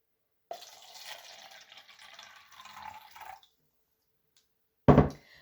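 Water pours from a jug into clay paint mix, a soft, steady splashing stream for about three seconds followed by silence and then a short, louder clatter.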